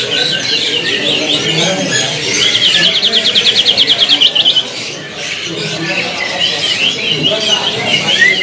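A caged kacer, or magpie robin, sings at a bird kiosk with loud, close squawks and a rapid run of repeated chirps while someone talks over much of it.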